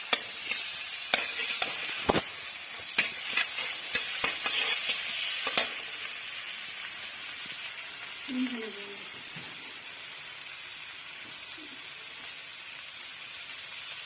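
Onions frying in butter for butter paneer give a continuous soft sizzle, broken by several sharp scraping and stirring clicks early on, with brief voice sounds partway through.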